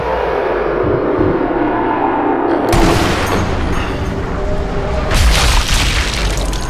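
Sniper rifle shot in the video game Sniper Elite V2: a loud, booming blast followed by a rumbling tail, then a second heavy surge a few seconds later.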